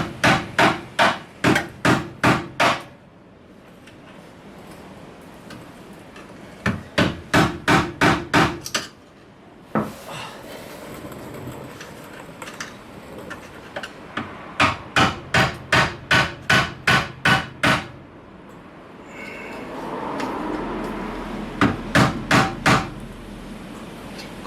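Repeated hammer blows on a worn inner camber arm bushing of a BMW E91, struck in fast rhythmic bursts of about six to ten sharp metallic hits, with short pauses between the bursts.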